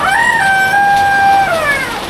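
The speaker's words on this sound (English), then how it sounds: "Even roosters inside." A rooster crows indoors during a typhoon on Siargao Island in the Philippines, one long, loud, near call that rises, holds steady and falls away over about two seconds, with no talk.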